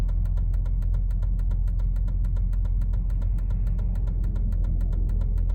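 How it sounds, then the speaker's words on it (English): A car engine hums steadily nearby on the road, a constant loud motor drone with a fast regular ticking running through it and no talk. "there's freaking cars coming"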